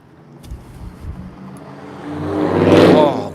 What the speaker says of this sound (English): Lots of loud cars right now.